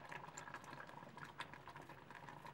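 A passion fruit mixture thickened with cornstarch boils in a pot, giving a faint, steady bubbling and popping throughout.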